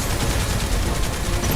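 Barrett's gun fires in Final Fantasy 7 Remake, a dense, steady burst of rapid shots with a heavy low rumble running without pause throughout.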